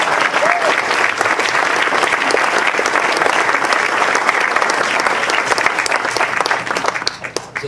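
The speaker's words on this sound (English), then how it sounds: "She deserves a round of applause." Sustained audience applause at a Richard Russo author talk for a 130th anniversary event, loud and dense throughout with crowd noise, tapering slightly toward the end.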